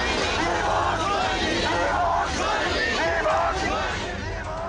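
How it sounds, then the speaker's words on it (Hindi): Protesting daily-wage teachers chanting slogans outside a judicial complex in Pakistan, a dense continuous crowd roar of many voices, loud and close. "असातिज़ा ने डॉक्टर तारिक फजल चौधरी के खिलाफ नारेबाजी की"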